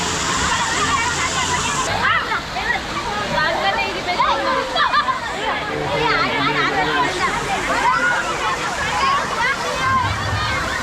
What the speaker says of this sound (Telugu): so water flow